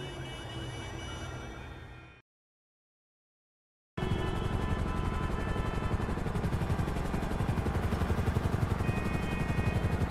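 A helicopter arriving to land in a drama scene, its steady rotor thump running loud and continuous, cutting briefly to silence and then returning even stronger and closer.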